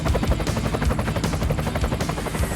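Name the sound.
helicopter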